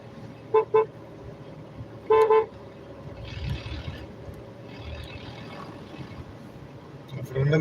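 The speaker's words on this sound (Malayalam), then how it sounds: "ഒരു വലിയ വണ്ടി പോവുകയാണ് നമ്മൾ കോൺക്രീറ്റ് മിക്സറാണ് പോകുന്നത്" A large concrete mixer truck passes on a good road during a night drive, heard from inside a moving vehicle: two sharp horn toots, then another burst, over a steady road rumble that swells and fades as the heavy vehicle goes by.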